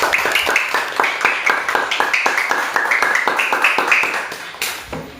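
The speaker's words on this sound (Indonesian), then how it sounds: "Tepuk tangan untuk kelompok darah" A classroom group claps together in a fast, steady rhythm for a student team, close and loud, with the crisp hand strikes running evenly throughout before tapering near the end.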